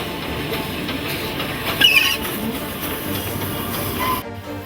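A Class NG15 narrow-gauge steam locomotive running, a steady rumbling roll with hissing and clattering wheel noise up close, a louder surge midway and an abrupt cut near the end.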